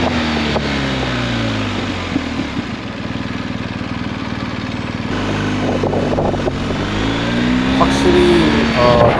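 A BMW R1250 GS Adventure motorcycle on a test ride with new tires, its engine pulling up through the revs, easing off, then pulling up again, up close with wind noise around it.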